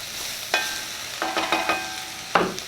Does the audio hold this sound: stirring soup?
yes